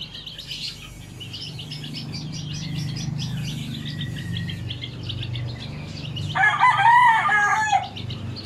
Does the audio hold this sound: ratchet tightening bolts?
no